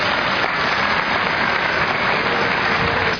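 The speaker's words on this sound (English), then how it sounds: "that's fine, applaud them." A graduating class at a Cleveland State commencement ceremony draws a steady, dense wash of applause from the audience, loud and unbroken throughout with no voices on top.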